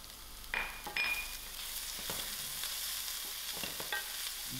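Onions and leek fry quietly in a pot, a soft, even sizzle broken by a few brief scraping stirs near the start and scattered light clicks as they are moved around.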